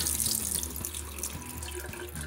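Water pours steadily out of a container of soaked sprouting seeds being drained, a continuous close splashing rush like a running tap.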